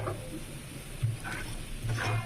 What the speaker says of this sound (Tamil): ஆயிலில் மிக்ஸ் பண்ணி விடுங்க.